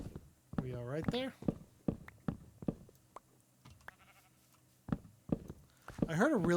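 Sheep in the video game Minecraft bleat twice, with wavering calls near the start and again at the end, amid scattered soft clicks and taps of in-game footsteps.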